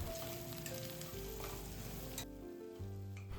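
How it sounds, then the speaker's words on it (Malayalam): Onion, green chilli, curry leaves, potato and carrot sauté in a cooker for a Kerala chicken stew, with a soft, steady sizzle at low volume over sustained tonal sounds that cuts off partway through. "ഉള്ളി, പച്ചമുളക്, കറിവേപ്പിലൊക്കെ ഒന്നിട്ട് നന്നായി വഴട്ടാം."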